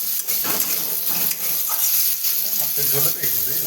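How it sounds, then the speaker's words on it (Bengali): Steady, close sizzling of onions frying in hot oil, a dense hiss that runs the whole time with faint stirring clicks underneath. "পেঁয়াজটা লাল লাল ভাজা হয়ে গেলে"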